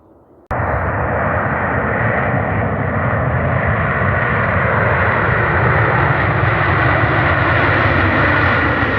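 A loud, steady airplane engine roar starts abruptly and holds strong, a broad rushing drone like a plane taking off nearby.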